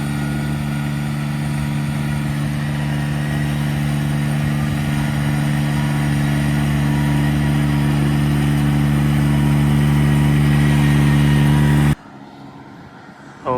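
A tractor engine runs steadily during paddy field puddling for rice transplanting, a loud, constant mid-pitched drone with a firm low hum that continues unchanged for about twelve seconds, then cuts away to near quiet.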